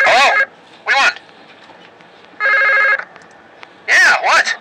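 A telephone rings in a Minecraft video game, loud electronic bursts with long gaps between them, interrupted by warbling honk-like tones and a voice speaking.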